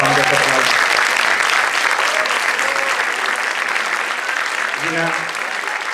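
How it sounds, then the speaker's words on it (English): An audience at a film premiere in the Walter Reade Theater at Lincoln Center applauds loudly, a dense sustained clapping that fills the hall for several seconds. "Please stand up and give them a round of applause."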